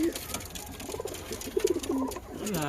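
Pigeons calling to each other in a home loft, with a newly arrived male among them, soft throaty coos repeating in short bursts up close, while a person speaks quietly at times.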